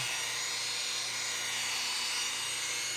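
A rotary polisher spins a buffing pad over paint at about 2200 RPM while restoring a Vendo 81 Coke machine, giving a steady, continuous high-pitched whine with a low hum beneath, unbroken and close.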